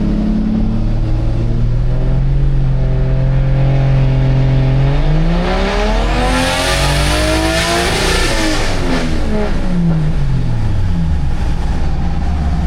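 A Toyota 1JZ engine in a MkII on a dyno, running on pump gas, drones steadily and then sweeps loudly upward in revs before falling back down, loud and close throughout.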